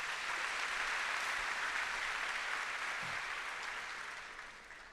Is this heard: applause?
yes